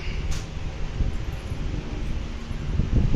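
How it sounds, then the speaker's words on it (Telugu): An air cooler blows air through a hall, making a steady, close, breathy rush of airflow with a faint low hum that stays even for the whole stretch. "ఈ హాల్ అంతా ఈ ఒక్క కూలర్తో కూల్ అయిపోద్ది"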